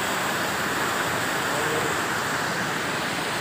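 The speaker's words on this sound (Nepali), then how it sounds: "अहिले देखेको छु कि खोला बगरै रहेछ" A river at Rock Garden near Darjeeling rushes steadily, giving an even, loud broadband roar with no breaks and no voices.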